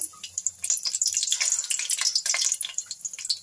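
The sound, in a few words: kababs coated in vermicelli frying on a low flame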